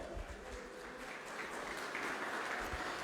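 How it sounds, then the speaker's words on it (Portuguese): A church congregation applauds for a few seconds, a dense, even wash of clapping with no clear break. "você aplaude esse Deus"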